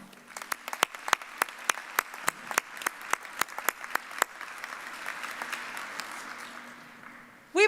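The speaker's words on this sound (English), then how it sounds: "Please join me in saluting our faculty with a round of applause." Sparse, distinct claps from a small audience at a fall commencement ceremony. They start as separate sharp hand claps, thicken into softer ongoing applause, and a brief sound cuts in at the very end.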